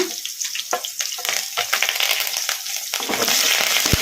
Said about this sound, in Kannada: ಬಳ್ಳುಳ್ಳಿ ಈ ಥರ ಜಜ್ಜಿ ಇಟ್ಕೊಂಡಿದ್ದೀನಿ ಈಗ ಇವನ್ನ ಹಾಕೋಣ ಹಾಗೇನೆ ಕರಿಬೇವು ಹಾಕೋಣ